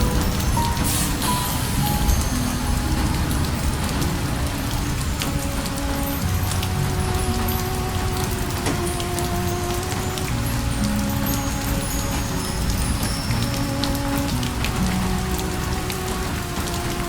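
Steady rain falls on a Japanese bamboo forest train, a dense, even patter of drops holding a constant loud hiss throughout, with faint tonal hums in the background.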